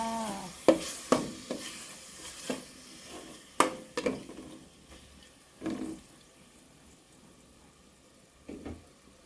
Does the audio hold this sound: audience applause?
no